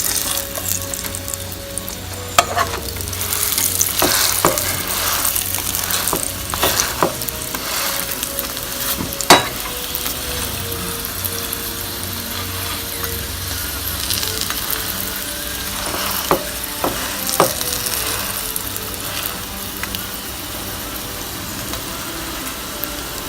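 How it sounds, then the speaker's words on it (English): Rotis fry in a greased non-stick pan with a steady, close sizzle throughout, broken by occasional sharp clicks and scrapes of handling. "My non-stick pan that I greased with some oil, I've added my rotis."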